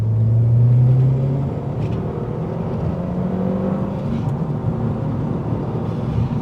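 A car engine hums under load with a rising then settling tone, a steady rumble as the vehicle pulls along with road noise.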